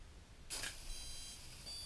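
An RC helicopter gives a single short electronic beep after its battery is plugged in. The beep is clear and steady against a quiet background, following a brief soft click.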